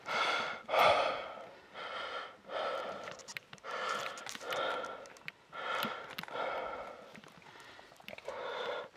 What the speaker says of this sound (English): Sorry everybody for the heavy breathing.